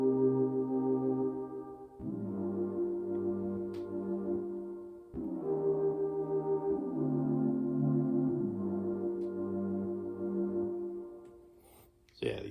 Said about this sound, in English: And this is the Galore pad preset.